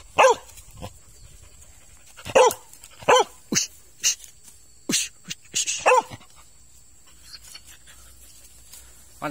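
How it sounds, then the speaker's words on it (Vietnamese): A snake-hunting dog barks in short, sharp bursts, about a dozen barks in loose clusters, close and loud with quiet gaps between. "Cho mọi người nghe tiếng sủa nhá."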